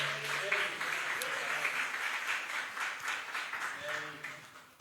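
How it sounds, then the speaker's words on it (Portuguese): Applause from a church congregation at an Assembly of God anniversary service, a continuous wash of clapping from many hands, somewhat distant and soft, with faint voices and tones mixed in. "Então vamos dar uma salva de palmas para essa igreja."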